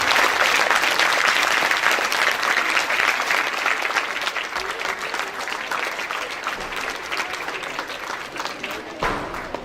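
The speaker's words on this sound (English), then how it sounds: "He truly deserves a big round of applause, audience." Sustained applause from an audience at a school investiture ceremony, loud dense clapping filling the hall and slowly tapering, with a faint voice near the end.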